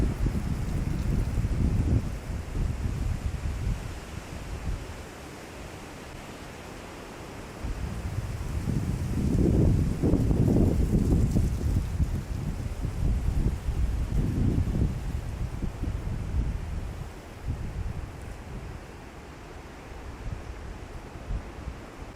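Strong gusts during an October windstorm roar continuously, swelling and easing in broad waves of rumbling turbulence with no voices.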